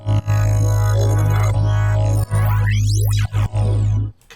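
A deep, sustained bass line from a bass jam rumbles loudly with short dropouts and sweeping, glitchy high-pitched swirls over it, ending abruptly.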